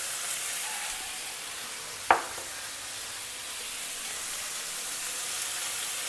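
Vegetables stir-frying with turmeric, salt and hing in a hot pan, a steady close sizzle and hiss throughout with one sharp utensil clink partway through.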